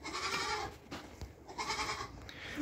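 A young billy goat kid from a dairy line bleats at a farm sale, wavering cries close by amid ambient farmyard noise with no talk.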